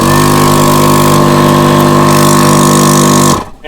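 A portable air compressor, hard-mounted and wired to a vehicle battery, runs with a loud steady mechanical drone and buzz, then shuts off abruptly near the end.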